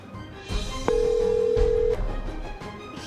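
A telephone rings with an incoming call in an Indonesian drama, one steady electronic ring tone lasting about a second over background music and room sound.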